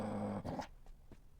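A dog growls in the Minecraft video game, a short low rumbling growl close up followed by a couple of brief softer sounds, over within about a second.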